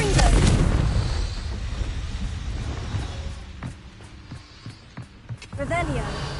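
A heavy, booming Confringo explosion spell from the game Hogwarts Legacy, loud at the start and rumbling away, with smaller bursts and a voice speaking over the rumble.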